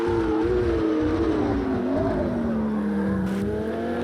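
A race car in Project Cars 2 on the Nürburgring GP circuit drones steadily at close range. The engine pitch sags as it brakes into a chicane to overtake an online rival, with faint tyre noise underneath.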